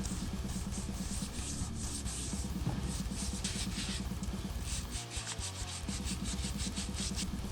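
Sandpaper rubbed back and forth over the binding on the body of a guitar, a continuous close scratchy rasp with steady rhythmic strokes throughout, no voices.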